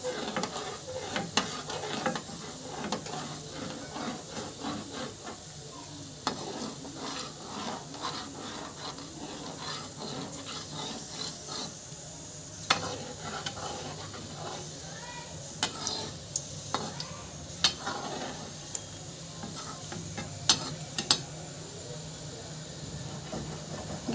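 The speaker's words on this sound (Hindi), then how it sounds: "गैस को मंदी रखना है, हमें मंदी मंदी गैस पे इसे सेकना है।" A spoon stirs and scrapes a rasgulla mixture roasting in a pan over a low gas flame, making repeated rubbing and scraping strokes over a low sizzle, with occasional sharper knocks, close up.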